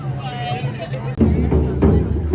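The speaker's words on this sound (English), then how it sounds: "So the crowd is for the performance going on." Crowd gathered for a performance at Epcot's Festival of the Arts, a steady murmur of many voices with footsteps and nearby talk over it.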